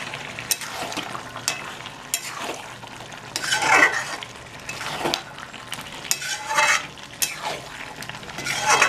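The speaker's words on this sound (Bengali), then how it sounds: "এবার আমি ভালো করে একটু দিয়ে কষিয়ে নিচ্ছি আবার" Mutton sizzles in a pan with cashew paste, stirred and sautéed in repeated scraping strokes of a spatula against the metal. Intermittent clinks and steady frying hiss carry on without talk.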